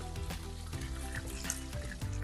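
Quail frying in hot oil in a cauldron, a steady close sizzle and crackle with a brief stirring clatter, no voices.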